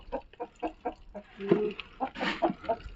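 Chickens cluck in short, repeated bursts with a few louder calls mixed in, close by and steady over the ambient farmyard noise.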